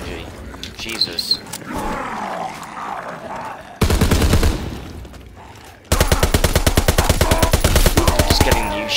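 Rapid automatic bursts from a new submachine gun in a World War II shooter game, loud and close, with a longer sustained volley at the end following an earlier short burst and game noise.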